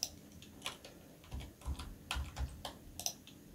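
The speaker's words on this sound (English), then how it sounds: "using the arrow keys, I'm just going to kind of align it up so it looks right" Arrow keys on a computer keyboard are tapped in a quiet, irregular series of light clicks, some quick pairs and some single presses, with no talking.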